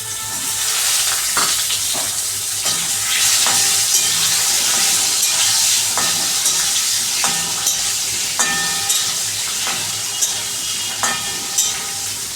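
Boiled potatoes fry in a little oil while a spatula stirs them. A loud, continuous close sizzle runs throughout, with frequent scraping strokes against the pan.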